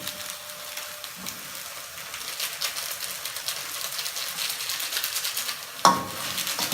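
Indomie noodles with seasoning are stirred in a pan, giving a soft, continuous scraping and sizzle of low loudness, with a sharper clank of utensil on pan near the end.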